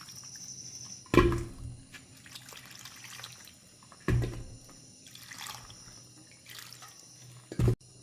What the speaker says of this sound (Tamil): இதை தண்ணியில் கழுவி எடுத்துட்டு அவிக்க விட போகிறோம்